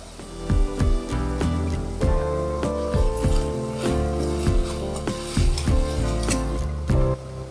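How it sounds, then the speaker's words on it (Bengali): Minced mutton being stirred and sautéed in a pan for spicy samosa filling, with a metal spatula clanking and scraping against the pan in a steady, fairly loud rhythm over a low sizzle and hum. "খুব ভালো করে নাড়াচাড়া করে এবার মাটনের কিমাটা দিয়ে দিচ্ছি।"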